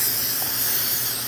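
Tarminator wheel cleaner sprayed from a bottle onto a wheel while detailing a BMW F10 M5, giving a brief, steady hiss with no talk.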